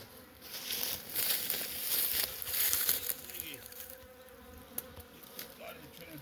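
Bees buzzing around newly built Root-style beehives in spring, a dense steady drone of many insects close by, with rising and falling swells of flight and a faint voice in the background.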